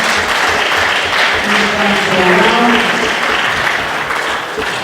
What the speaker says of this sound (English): So a big round of applause for Toyota Material Handling.